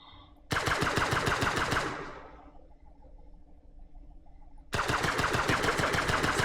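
Automated turrets in the space-survival game Breathedge fire in loud, rapid mechanical bursts: a sustained volley that fades into a low rumbling tail, then a second burst erupts.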